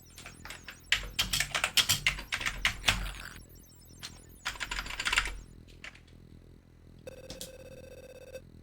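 Someone typing a code on an Amiga computer keyboard in rapid clattering bursts of keystrokes with pauses, followed by a ringing electronic tone from the game.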